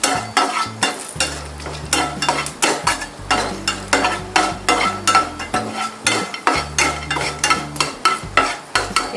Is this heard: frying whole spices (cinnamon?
yes